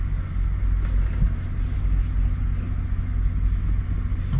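Truck engine rumbling at a truck stop, a deep steady idle and low drone that continues evenly as the vehicle pulls away, fairly close and without voices.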